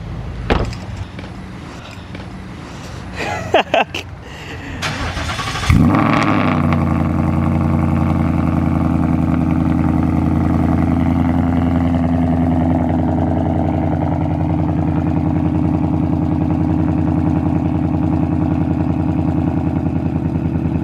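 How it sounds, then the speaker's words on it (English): A full-bolt-on Ford Mustang running E85 is remote started: clicks and handling noises give way to the engine cranking and catching, then a loud, steady, deep idle rumbles nearby without talk for the rest. "All right, I'm gonna remote start it."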